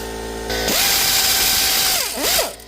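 Power drill or impact tool spinning out a torque converter plate bolt on a 2000 Ford F-250, one steady whirring run with a dip and brief re-rev near the end, close and loud.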